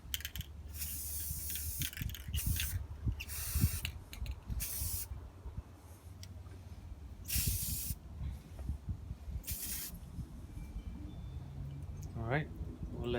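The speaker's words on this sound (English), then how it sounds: "then I'll spray paint it" Repeated bursts of aerosol spray paint hiss, several short blasts separated by pauses, close by, with low rumbling handling noise beneath.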